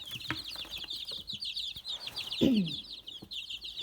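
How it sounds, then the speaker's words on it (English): A crowded brooder full of chicks peeps nonstop in a dense, high-pitched chorus, with one brief lower rustle or flutter partway through. "in one of my chick brooders, it's an awful lot of chicks in there"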